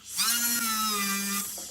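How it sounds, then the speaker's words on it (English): A jeweller's burr cutting a stone pocket in a pear-shape three-stone ring, a high, steady electric whine with a buzzing tone, close and continuous for just over a second before spinning down. "Burr with a sideways approach, and just start to get a little pocket in there"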